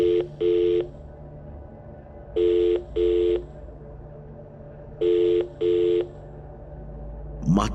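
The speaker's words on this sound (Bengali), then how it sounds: "শুনতে পেল ওপাশে রিং হচ্ছে" Telephone ringback heard down the line in a Bengali audio drama: three evenly spaced double rings, each a pair of short buzzing tones, clear and alone, with a brief rising noise at the very end.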